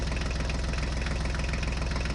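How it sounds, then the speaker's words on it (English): A tractor engine idles with a steady, rapid low knocking pulse, close and continuous, with a dense rattling mechanical texture above it and no talking. "This is a tractor."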